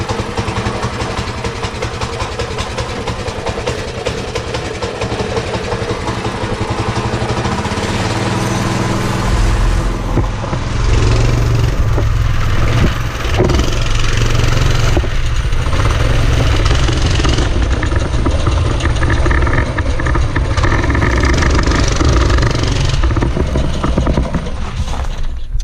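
A vehicle engine cranks and starts, then idles and runs with a steady, loud mid-pitched rumble that rises slightly partway through and continues for about twenty-five seconds, with no talking.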